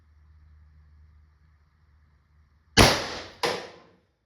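An LL4D Pistelle X68 carbine with a 6-inch barrel at 1100 psi fires 9.9 riot balls, producing two sharp, loud, close cracks about half a second apart that stand out after a faint low hum.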